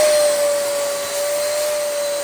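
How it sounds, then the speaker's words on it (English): A vacuum cleaner running steadily while cleaning out a car bay in a garage: a loud, continuous whine with a constant high tone, close by, with no talking. "we gotta wipe it down and vacuum out this bay"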